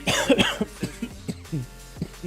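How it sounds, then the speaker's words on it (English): Several sharp, close coughs and a throat clear, loud and right up against a microphone, spaced irregularly over a couple of seconds with no talking. "Sorry for coughing in the mic, by the way."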